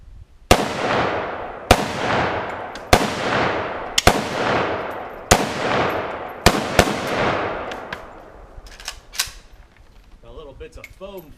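A foam dart blaster fires a full magazine into a backyard air conditioner: about eight sharp, evenly spaced hits, each ringing off into a metallic decay, then a few softer scattered clatters and a brief voice near the end.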